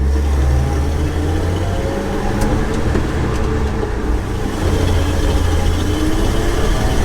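A Ford F500 barn find truck engine runs steadily up close, its loud low rumble continuous and unbroken throughout, with no talking over it.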